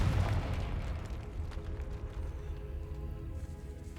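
A Confringo fire spell explodes in Hogwarts Legacy with a booming burst that fades into a crackling, rumbling tail over a few seconds.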